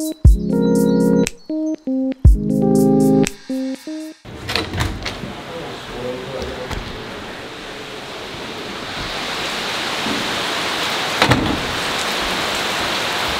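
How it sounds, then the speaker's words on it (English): Steady rain hisses outdoors on a rainy morning during a fishing road trip to Maine, a continuous broadband wash lasting several seconds after a burst of loud music and clatter at the start. "Well, it's a bit rainy this morning."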